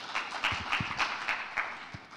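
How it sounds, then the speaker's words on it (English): Scattered audience clapping at a conference session as a speaker comes on stage, with individual claps standing out against a softer crowd wash over about two seconds. "Give him a warm applause, please."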